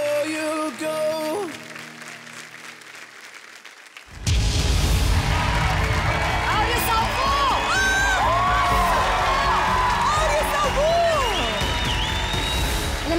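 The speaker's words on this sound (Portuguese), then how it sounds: "Um grande aplauso para a nossa Vânia!" A studio audience at a Portuguese TV talent show battle round bursts into loud, sustained applause and cheering with whoops after a quiet musical passage fades, the crowd noise filling the rest of the clip.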